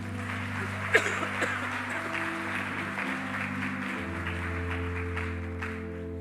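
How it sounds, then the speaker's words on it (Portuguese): Scattered applause from a church congregation over a sustained organ chord, steady and moderate, with a few louder claps near the start. "Vamos aplaudir ao Senhor pela vida."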